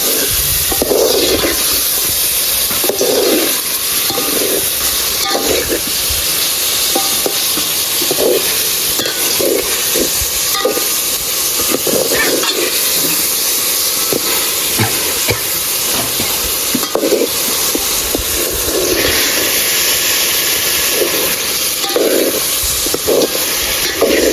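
Saltwater shrimp curry is stirred in a pan of hot oil and chillies, giving a continuous loud sizzle broken by repeated rhythmic scraping bursts from the spoon.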